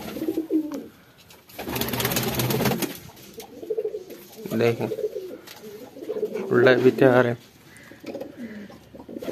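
Pigeons coo in soft, repeated bursts at a newly built rooftop loft, close and moderately loud, with someone speaking between and over the calls.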